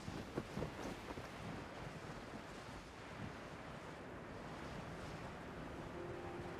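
Steady wind blowing in the Genshin Impact video game, a dense continuous rushing roar with faint soft thumps early on, loud and unbroken throughout.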